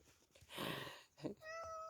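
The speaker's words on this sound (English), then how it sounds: "I'm sharing the platform with the kitty cat" A cat meows twice indoors, a drawn-out plaintive cry followed by a shorter rising mew, fairly close and clear with no talk over it.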